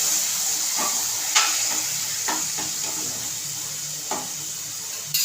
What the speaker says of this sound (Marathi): चांगलं हलवून घ्यायचं आहे असं मस्त थोडंसं पाण्याचा शिंपडा मारायचा